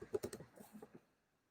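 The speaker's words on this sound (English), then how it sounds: "I'm typing in my description is" Soft, quick keystrokes on a computer keyboard, about eight taps in a short run, close and quiet, then stopping.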